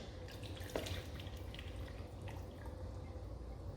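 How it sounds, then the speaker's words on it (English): Fresh water poured into a mixture for chamomile ginger tea gives a steady, continuous trickling splash that runs the whole time at moderate level, with one brief clink early on and no talking. "3 good cups of nice fresh water. And we're going to pour that in."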